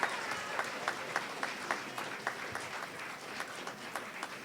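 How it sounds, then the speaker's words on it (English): Audience at a college commencement ceremony clapping steadily throughout, a dense wash of many hands at moderate loudness with no voices over it. "Please give them a round of applause."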